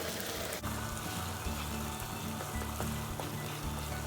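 A pot of okra stew with snails cooking over the fire, giving off a steady bubbling and sizzling with soft popping that runs unbroken throughout, close up and moderately quiet, with no talking.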